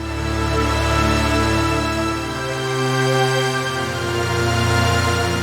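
A Vital synth rise pad with its filter cutoff near 1.7 kHz and a high-shelf boost of about 4 dB. It is a sustained, dense harmonic tone that slowly shifts and swells over several seconds, with no voice.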